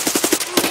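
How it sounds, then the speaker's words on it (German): Rapid automatic gunfire from a weapon in Escape From Tarkov, a whole magazine emptied in one quick burst of sharp, evenly spaced shots, close and loud with a brief gap before the final rounds. "Oh, Alter, ich hab hier das ganze Magazin verfeuert."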